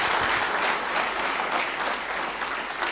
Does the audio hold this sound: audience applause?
yes